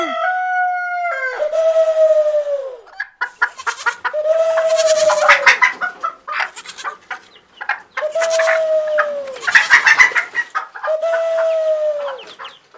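Chickens cluck busily while a rooster crows four times, loud and close, each crow a long drawn-out call.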